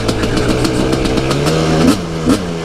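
KTM 300 two-stroke dirt bike engine revving loudly and close, a raspy buzzing drone with rapid crackly pulses and two quick throttle blips near the end.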